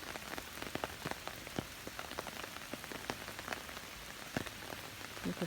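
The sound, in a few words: rain falling in a garden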